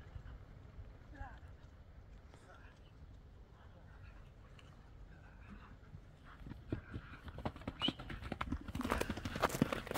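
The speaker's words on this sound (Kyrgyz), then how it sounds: "токтотпой эле чаба берчүп атат экен, буйруса" Hoofbeats of a dark bay horse running at a steady pace, starting faint and distant and growing louder and closer into a rapid drumming clatter by the end, with faint voices in the background.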